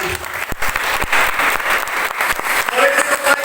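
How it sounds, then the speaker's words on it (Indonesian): A church congregation claps in praise at a Christmas service, loud rhythmic applause with sharp individual claps standing out, mixed with voices calling out over it. "berikan lagi tepuk tangan bagi Tuhan"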